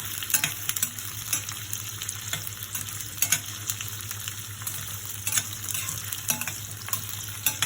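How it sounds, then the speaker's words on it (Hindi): Large pieces of capsicum fry in a pan with a continuous bright sizzle, while a spatula scrapes and stirs in quick irregular strokes close by. Nobody speaks. "उसी तरह मैं शिमला मिर्च भी इस तरह से कटिंग बड़े बड़े टुकड़ों में काट ली, वो भी मैं डाल रही हूँ। इसे भी मैं हल्की सॉफ्ट करूँगी।"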